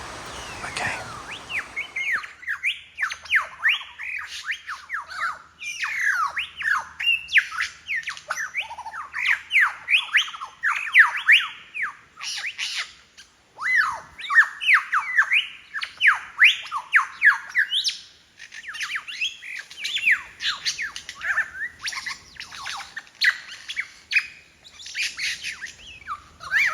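Lyrebirds call and mimic in the forest along a walking track, a loud, dense run of varied squawks, chirps and whistles that goes on nearly without break and sounds close by.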